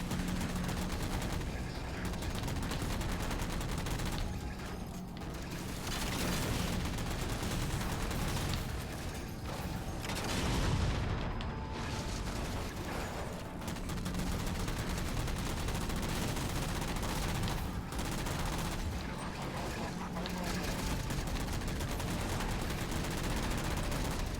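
Continuous dense gunfire and battle noise from a Halo 4 firefight, steady and loud throughout with sustained bursts and no clear pauses.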